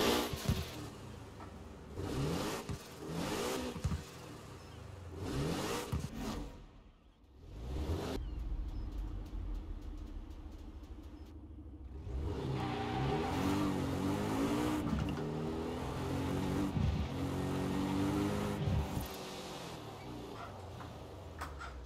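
A 2018 Porsche Cayman 718 GTS in Forza Horizon 4 cranks and fires up, then revs with rising and falling engine sweeps that settle into a steady, loud running drone, near and without talk.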